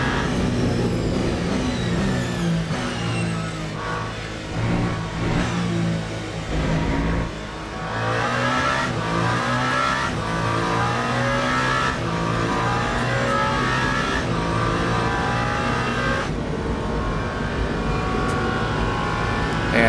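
Race car engine in Le Mans Ultimate during the 24 Hours of Le Mans start, revving hard and upshifting early with repeated pitch climbs and drops, loud and continuous throughout with no talk.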